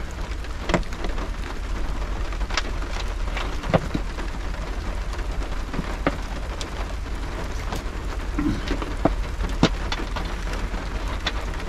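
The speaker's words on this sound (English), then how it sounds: "If I have to, I'll just have to sit in here until the rain stops." Steady rain falls during sea fishing on the east coast at Paull, a constant close hiss of drops with scattered sharper patters on a nearby surface, with no voices.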